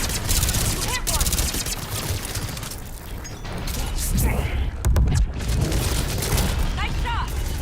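Gunfire in the video game Mass Effect 3, dense loud bursts and booms from a firefight, with brief in-game voice shouts breaking in between volleys.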